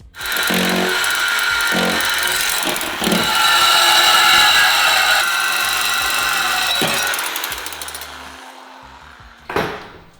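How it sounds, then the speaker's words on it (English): Reciprocating saw with a fresh blade cutting through the exhaust pipe of a VW T5 van: a loud, steady buzzing rasp runs for about eight seconds with slight surges, then stops, followed by a sharp clank at the end. "using my reciprocating saw with a fresh blade, I'm going to bust straight through that"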